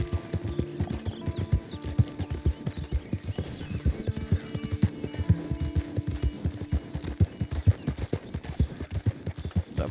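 Horse hooves clip-clop in a steady, rhythmic trot in the Red Dead Redemption 2 video game, crisp and close throughout, with brief snorts mixed in.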